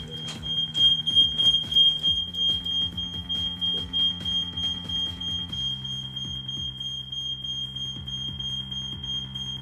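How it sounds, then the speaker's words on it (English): A smoke detector fire alarm beeps in a steady repeating pattern throughout, with a constant high electronic tone over a busy background with no talking. "now the fire alarm's going on."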